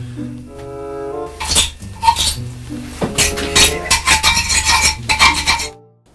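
Metal fork scraping and clinking against a toilet in the video game Who's Your Daddy, a busy run of bright scratchy rasps and tinny clinks over about four seconds, heard over a quiet background music tone.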